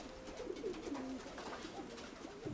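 A pigeon coos softly in low, rolling notes, repeated a few times against a quiet background.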